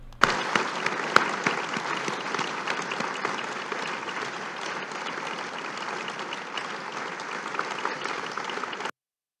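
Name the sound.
ministers and collaborators applauding at a political event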